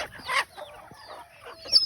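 Native country chickens peck at sprouted paddy, giving soft clucks and short calls close by, with a brighter squawk near the end.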